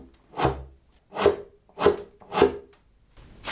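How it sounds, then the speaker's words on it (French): A serpent, the old snake-shaped wooden bass wind instrument, played with a slap-tongue effect: four sharp, percussive air-and-tongue pops spaced about half a second apart, close and clear with no talking. "c'est le fait de mettre de l'air très fort et de le couper avec la langue"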